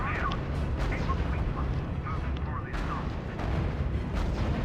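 Battle sounds from the WWII strategy video game R.U.S.E. as units come under fire: a dense, continuous rumble of artillery and gunfire with scattered bursts and booms, steady and loud throughout, with faint radio-style voices mixed in.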